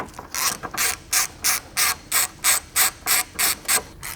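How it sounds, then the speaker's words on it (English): A ratchet wrench on a T30 bit loosens core support bolts on an Audi B8 with the 3.0T supercharged engine, giving about a dozen evenly spaced, crisp clicking bursts, close and loud, with no talk. "we're going to be removing a couple more of the core support bolts"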